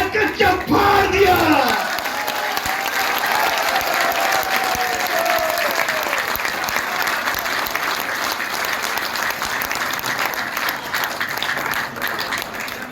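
A large audience at a religious assembly claps loudly for a poet on stage, a dense and sustained burst of applause with a few voices mixed in.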